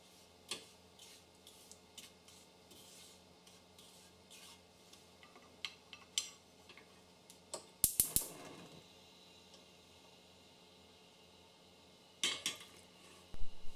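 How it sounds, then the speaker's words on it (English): A spoon scrapes and clinks against a metal saucepan in irregular bursts while stirring sugar syrup, with quiet stretches between and a few louder clattering knocks. "Heat the mixture with constant stirring."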